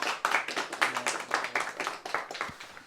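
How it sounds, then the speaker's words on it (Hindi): An audience claps during a trading course session, a burst of quick, uneven handclaps from several people that rise and fall for about three seconds. "इसके लिए ताली बजा दो जी"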